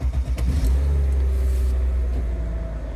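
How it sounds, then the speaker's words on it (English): A Mercedes SL R230 engine turns over and catches, settling into a low, steady rumbling idle close by. "So let's start the car and see what happens."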